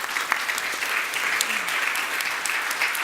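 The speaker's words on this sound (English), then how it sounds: "Round of applause." Steady, dense audience applause at a beverage-industry conference session on the cannabis market, a continuous wash of clapping at even volume from start to finish.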